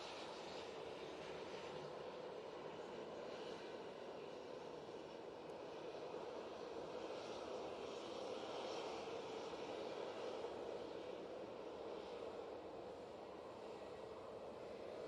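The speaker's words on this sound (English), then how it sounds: "first departure properly of the day is the TUI 787-8 Dreamliner" TUI Boeing 787-8 Dreamliner departing Manchester Airport, its jet engines making a faint, distant, continuous broadband roar that holds steady throughout, with no talk.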